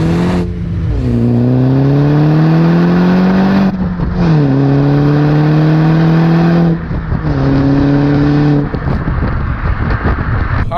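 An F55 Mini Cooper S pulls away and accelerates hard from inside the cabin. The engine note climbs steadily through the gears with brief dips at each shift, loud and close, with no talking.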